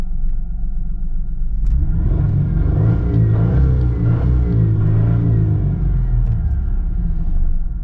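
A 1996 Mercury Cougar XR7 engine runs rough at low RPM, a loud close rumble with uneven surging and revving that wavers throughout.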